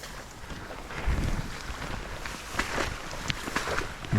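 Legs wade knee-deep through swamp water on the Rideau Trail, giving soft, irregular sloshing and splashing close to the microphone, with steady wind noise underneath.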